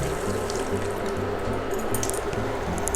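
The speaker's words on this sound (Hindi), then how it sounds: "अब इसमें हम पानी डालेंगे" Water pours steadily into a pan of fried spices and corn paste while cooking corn curry, a continuous splashing stream close by with no talking.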